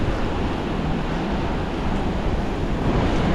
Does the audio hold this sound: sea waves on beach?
yes